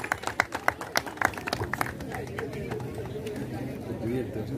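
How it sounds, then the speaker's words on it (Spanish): A crowd at a football league opening ceremony gives a brief burst of distinct, sharp claps that fade after a couple of seconds into murmuring chatter and a voice talking. "Fuerte los aplausos, por favor."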